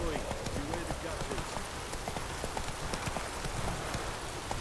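Roach, the horse in The Witcher 3, gallops with steady clip-clop hoofbeats under a constant wash of rain, the rhythm continuous and fairly close, with a voice briefly heard.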